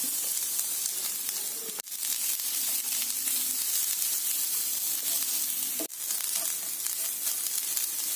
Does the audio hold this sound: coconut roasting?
yes